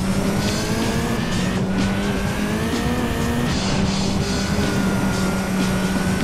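A Ford Focus rally car races in the video game Gran Turismo 2, its engine a steady, loud droning hum with slight pitch shifts and no talking.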